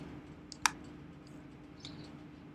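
A computer mouse gives two or three sharp, isolated clicks, close and crisp, spaced apart over a quiet room hum.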